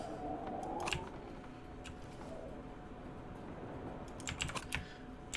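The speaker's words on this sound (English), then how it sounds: "And I'm right-clicking and then left-clicking the place." Mouse buttons click during a PC game of The Long Dark, right-click then left-click. There is a sharp pair of clicks near the start and a quick cluster of clicks near the end, all close and fairly quiet.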